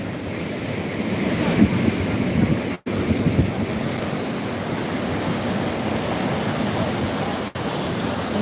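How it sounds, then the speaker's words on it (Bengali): Heavy sea waves roar steadily at Puri beach, a loud, continuous surf with wind buffeting the microphone and no clear pauses between breakers. "এই প্রচন্ড প্রচণ্ড সমুদ্রে ঢেউয়ের আওয়াজে শোনা যাচ্ছে না কথা"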